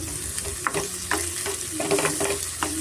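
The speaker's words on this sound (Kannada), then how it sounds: "ಈರುಳ್ಳಿ ಚೆನ್ನಾಗಿ ಸ್ವಲ್ಪ ನಾವು ಫ್ರೈ ಮಾಡ್ಕೊಬೇಕಾಗತ್ತೆ" Onion, ginger, garlic and green chilli frying in a pan for a sprouted horse gram sambar, a close, steady sizzle broken by several quick stirring scrapes, with no talking.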